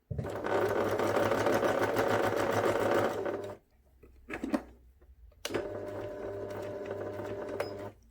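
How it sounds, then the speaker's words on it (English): Sewing machine stitching a fabric seam for a memory bear, close and steady, with a long continuous run, a brief stop with a few short bursts, then stitching resumes, no talking. "I'm now going to sew forwards all the way to the yellow pin which marks point F"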